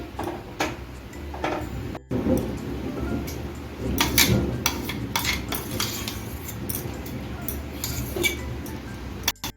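Metal spoon scrapes and clinks against a pan as almond paste goes into boiling milk over a medium gas flame, with sharp intermittent clatters and a quiet background murmur.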